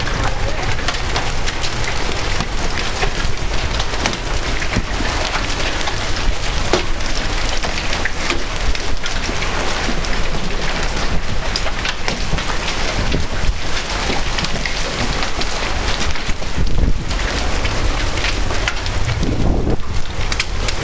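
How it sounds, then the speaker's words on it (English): Hail and heavy rain hammer down continuously during a tornado storm, a dense loud roar of impacts with faint rumbling and gusts underneath, no voices over it. "There's some hail."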